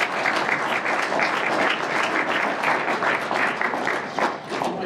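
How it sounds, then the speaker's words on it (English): An audience at a lunchtime talk applauds, a dense, steady wash of clapping that holds for several seconds before beginning to taper. "Round of applause."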